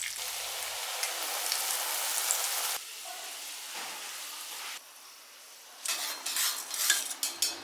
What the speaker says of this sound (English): Deep fry these noodles until they are brown and crispy on both sides.